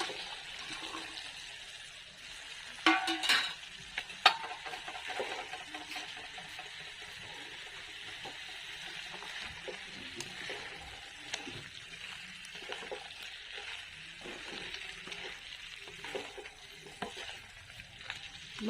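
Pork pieces sizzle steadily in a hot pan while a spatula stirs and scrapes them, with a burst of clattering near the start and continuous frying hiss throughout; no talking.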